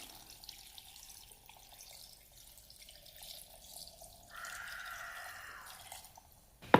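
Boiled salt water poured into a bitter gourd pickle, first a faint trickle and drip, then a brief steadier liquid pour, quiet and close with no voices.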